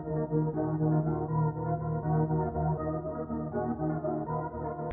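A beat loop with a halftime effect, made in FL Studio, rolls along with heavy, muffled low end and a dull, dark tone, pulsing steadily without talk.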